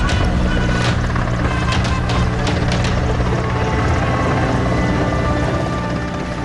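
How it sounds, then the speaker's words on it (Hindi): Helicopters flying overhead while showering flowers on hospitals, giving a continuous loud, beating rotor roar with no speech. "फूलों की बारिश करते हेलीकॉप्टर"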